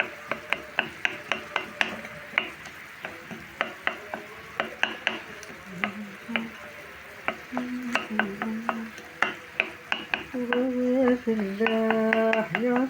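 Chicken breast pieces cooking with a ladle of thawed tomato sauce in an oiled pan, a spoon scraping and clinking against the pan in quick repeated strokes over a soft sizzle, getting busier and louder toward the end.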